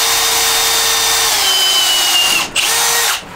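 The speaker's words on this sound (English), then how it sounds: "now we grab our other drill bit" A power drill whines loudly and steadily as it bores into wood, its pitch dipping briefly before the motor stops.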